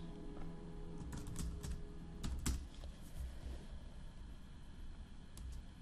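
Keys on a computer keyboard clatter in quick irregular bursts as a full name and personal details are entered, fairly faint and close, with a steady low hum underneath and no talking.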